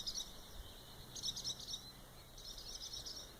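Small birds give repeated high, thin chirping calls in three short bursts while swooping protectively at a cat near their young, fairly faint over a quiet outdoor background.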